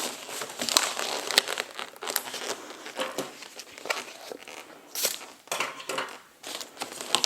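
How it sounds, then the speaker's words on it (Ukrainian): Scissors snip through knotted latex balloon ties, with several sharp cuts among crinkling rubber and plastic handling, close and fairly quiet, no voices. "беремо ножиці, надрізаємо, можна ще раз перекрутити"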